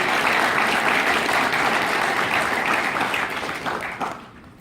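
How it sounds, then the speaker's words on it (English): Loud applause rises from the audience at a training seminar, a dense burst of clapping that holds strong for a few seconds and then quickly fades out. "that deserves a round of applause"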